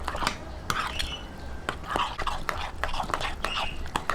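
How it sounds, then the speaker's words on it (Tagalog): Egg being mixed in a bowl with a utensil for a sardine omelette, giving rapid, uneven clinks and scrapes against the bowl, close and fairly loud, with soft voice-like sounds in the background. "i-mix natin tong egg. Haluin lang po ulit natin."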